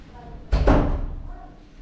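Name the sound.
door being closed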